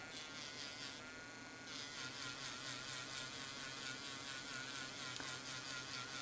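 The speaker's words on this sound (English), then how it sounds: "we're just grinding away where those previous welds were at" A small high-speed rotary tool grinds away old welds on an iPhone 11 battery BMS board, a faint continuous whining whir with a brief pitch change early on.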